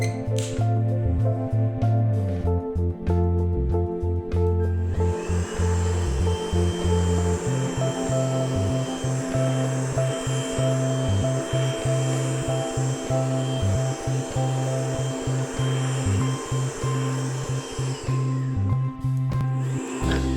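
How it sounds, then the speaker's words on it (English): A Karcher VC4 cordless vacuum cleaner runs continuously with a steady motor whine and airflow hum, interrupted by repeated short clicks and bumps, heard up close with no talking. "Press the button to operate the vacuum cleaner, or use the lock-in function."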